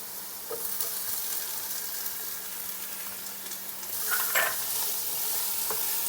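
Crushed ginger and garlic sizzle steadily in hot oil for a poultry dry fry, with scraping stirs and a louder burst of frying near the end; no one talks.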